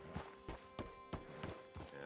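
Horse hooves in the video game Red Dead Redemption 2 clop in a slow, even walking rhythm, about six soft hits over two seconds, faint over quiet background music.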